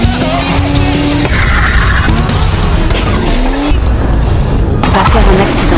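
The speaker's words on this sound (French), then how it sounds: "Volant une voiture afin de fuir, filant à toute vitesse." A stolen car speeds away in a tense film chase, engine roaring loudly with tires squealing in sharp rising streaks over dense, steady noise and scattered musical tones.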